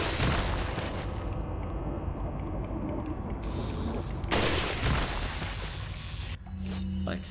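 Shotgun and rifle fire in Resident Evil 4 erupts in dense, loud bursts of booming shots and impacts, heavy and continuous with brief lulls and no voice over it.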